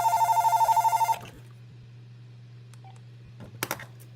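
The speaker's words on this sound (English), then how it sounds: "My phone started ringing." A phone rings with a rapid pulsing electronic ringtone for about a second, then stops, leaving a steady low hum and quiet room noise with a few faint clicks.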